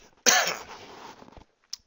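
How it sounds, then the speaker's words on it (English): A single sharp, close cough from a man, loud at onset and trailing off into a breathy rasp, followed by a faint click. "Forgive me for the cough."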